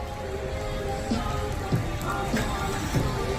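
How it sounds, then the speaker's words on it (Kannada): Steady rain falls in Mysore with a constant hiss, scattered drops pattering nearby on a surface. "ತೌಬಾ ತೌಬಾ ಮಳೆ ಆಗ್ತಾ ಇದೆ"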